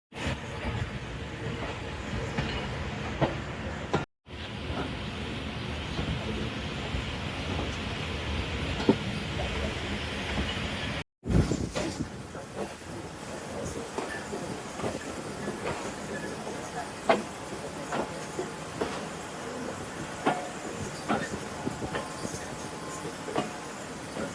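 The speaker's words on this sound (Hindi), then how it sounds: "हमारा डिपार्चर हो चुका है शादरा जंक्शन स्टेशन से" Passenger train pulling out of Shahdara Junction station, a continuous rumble with rhythmic wheel clicks and hiss, broken by two brief dropouts, with someone speaking over it.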